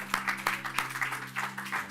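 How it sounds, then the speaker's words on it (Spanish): A church congregation applauding during a sermon, scattered hand claps in an irregular rhythm, fairly faint and distant, with a low steady hum beneath them. "si ese aplauso es para el Señor"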